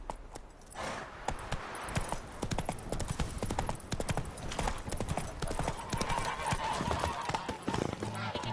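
Hoofbeats of the horse Roach galloping in The Witcher 3 on PS5, a steady rapid clip-clop running throughout, close and fairly loud, with game voices talking over it and a brief whinny.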